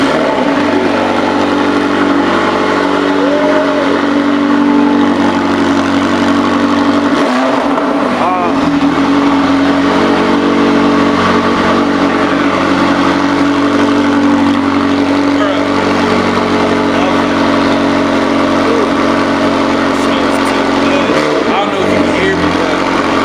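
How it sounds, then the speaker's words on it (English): A McLaren 720S and a Ferrari FF V12 sit running after a cold start, a loud close engine drone with a strong low rumble and a couple of sharper rev surges, with people talking over it. "he's gonna turn on 720S McLaren and the FF Ferrari"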